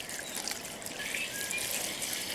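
Petrol pouring into the fuel tank of a Lingenfelter Corvette C4 muscle car, a soft, steady liquid trickle and gurgle at close range, fairly quiet and continuous.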